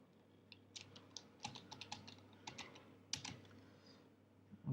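A password typed on a computer keyboard: a quiet, uneven run of soft key clicks close up, with no talk.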